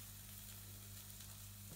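Broccoli and onions frying in a pan sizzle quietly and steadily under a low hum, ending with a brief clatter of stirring.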